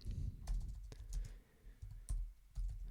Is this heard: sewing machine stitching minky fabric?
no